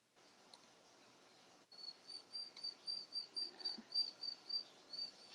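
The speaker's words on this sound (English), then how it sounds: "That's actually my finches." Pet finches chirping indoors, a quiet high-pitched repeated call in a steady rhythm of short bursts, faint and close, with light room noise beneath.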